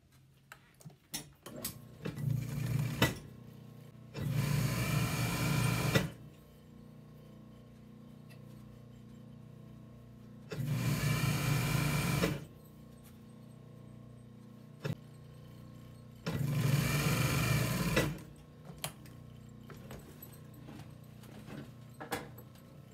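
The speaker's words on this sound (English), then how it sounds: "one of those pieces of piping is going to be sewn to the top of the border" A sewing machine stitches piping onto the top edge of a footstool border, running in three separate bursts of steady motor whir with quiet pauses between them, close and fairly loud.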